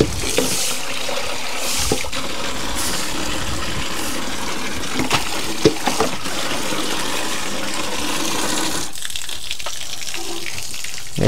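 Steady running water gushes, like a tap or flush, filling the clip continuously at moderate loudness, with faint scraping bursts of sweeping and a brief drop near the end.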